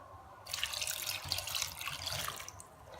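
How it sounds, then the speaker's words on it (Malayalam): A cup of water poured into a pot of Kerala-style sweet and sour ripe mango curry, a short splashing pour that starts abruptly, runs steadily for about two seconds and tails off, close by with no talk. "നമുക്കിതിലേക്ക് 1 കപ്പ് വെള്ളം ചേർത്ത് കൊടുക്കാം."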